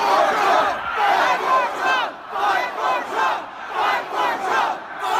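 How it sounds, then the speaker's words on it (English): Large crowd at the US Capitol riot chanting a rhythmic three-beat slogan in unison, repeated in regular bursts with short pauses, loud and massed, with no other voices over it. "chanted, "Fight for Trump.""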